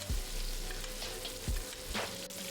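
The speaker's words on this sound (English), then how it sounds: "We're going to baste the steak for about 45 seconds to a minute and do this on both sides." Steak sizzles in a pan of frothy butter while it is basted, a continuous close hiss broken by a few soft spoon clinks and splashes.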